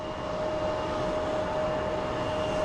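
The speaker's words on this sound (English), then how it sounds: "This was probably the smoothest landing I've seen." At Phoenix Sky Harbor International Airport, a landing airliner gives off a steady, loud, broadband engine roar with a sustained tonal whine. It holds constant throughout, with no voices.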